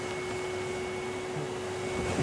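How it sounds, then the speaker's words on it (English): A hoover fitted with a bee-catching contraption runs continuously to suck up bees. It gives a steady, even drone with a faint whine and no breaks. "this contraption on the top and the bottom allows us to use a hoover to suck up the bees"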